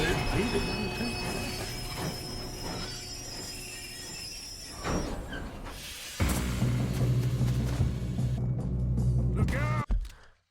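A moving train in the Red Dead Redemption 2 video game rumbles and clatters steadily, with a deeper rolling roar swelling partway through and ending in an abrupt cutoff, with game voices talking over it.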